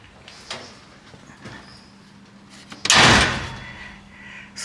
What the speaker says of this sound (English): Let me shut the door for you.